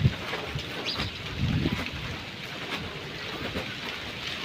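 Steady wind rushes against the microphone with a wash of falling rain, a continuous noisy roar with occasional gusts and no voices.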